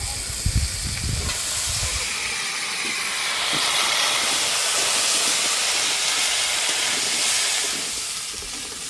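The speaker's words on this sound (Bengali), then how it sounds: "এবার কেটে রাখা আলু আর এর মধ্যে চেরা কাঁচা লঙ্কা একবারে দিয়ে দেবো।" Cut yam pieces and slit green chillies dropped into hot oil with fried river crab make a loud, continuous sizzling hiss that swells and holds steady for several seconds, with no talking.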